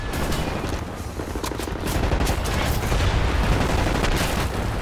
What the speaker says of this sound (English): Good old submachine gun